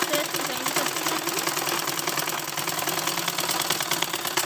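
Sewing machine stitching a school uniform salwar seam, running continuously with a dense, fast mechanical whir and rattle, loud and close throughout without pause.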